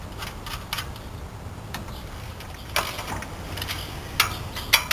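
Metallic ratcheting clicks in short bursts and single ticks as compression nuts are tightened on the brakes of a 1979 Boler trailer, close and fairly quiet with pauses between.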